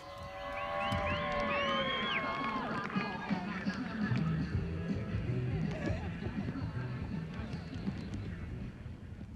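A crowd cheers and whoops at a Formula DRIFT event in Utah, a sustained roar of voices with whistles and shouts over engine noise.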